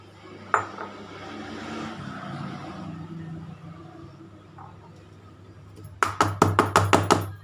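Several quick metallic knocks in a rapid run ring out near the end as a cake tin of rava cake batter is tapped to settle it, following a single clank and some quieter shuffling noises earlier.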